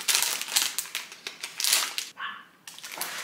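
A package of hand warmer sachets being torn open and handled, with loud crinkly plastic rustling in bursts, a short pause, then more crackling at close range.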